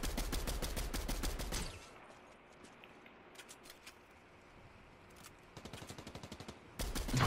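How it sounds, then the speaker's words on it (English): Gunfire in a Fortnite match: a loud rapid burst of shots at the start, then quieter scattered distant shots, a faint run of rapid pops, and another loud burst at the end. "Someone's shooting at me."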